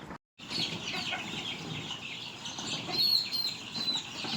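About a hundred young chicks in a poultry pen cheep and cluck continuously as a dense, busy chorus, with brief wing flutters and a few sharper peeps standing out, and no talking.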